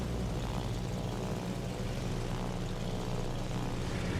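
Droning propeller aircraft engines from carrier planes of the AL Formidable in World of Warships: Legends, a continuous loud even roar with no breaks.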